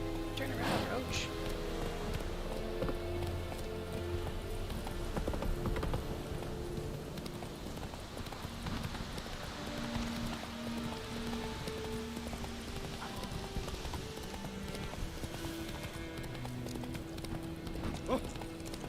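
In The Witcher 3, the horse Roach's hooves clip-clop steadily at a gallop under game music and ambience, fairly quiet, with a voice speaking over it.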